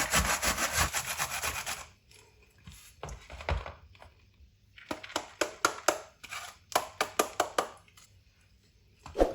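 Cauliflower florets snapped and torn apart by hand in a home kitchen, giving a dense rubbing, crackling burst at first, then a pause and a run of sharp close snaps and crunches.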